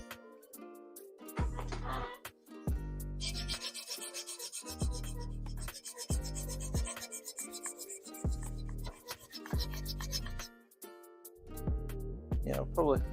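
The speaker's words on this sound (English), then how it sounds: "So now we'll clean both of those up with some emery." Emery cloth is rubbed back and forth over a bicycle frame's seat stay to clean off stuck brass, a close, rhythmic rasping in repeated strokes of about a second each, with faint scraping between.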